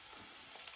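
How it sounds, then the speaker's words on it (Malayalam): Ginger frying and starting to scorch in a pan gives off a brief, steady, fairly faint sizzling hiss with no talking. "ഇഞ്ചി കരിയുന്നു."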